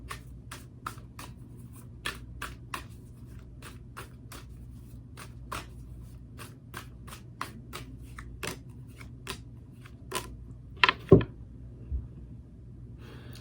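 Tarot cards are shuffled by hand in quick, sharp, evenly spaced snaps against a quiet room, ending in a couple of louder riffles.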